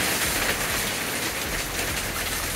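Hail pelts a boat during a storm, a loud, dense, unbroken patter and hiss of pellets striking the deck and enclosure all around.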